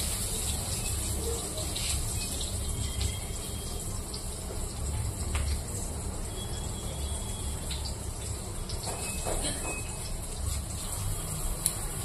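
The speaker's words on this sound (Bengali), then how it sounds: "তো পাইপের থেকে জল বের করে নিয়ে আসলাম আমি" Water runs steadily from a pipe into a container during home cooking, a continuous gushing hiss that stays even and fairly close for the whole stretch, with faint background noise.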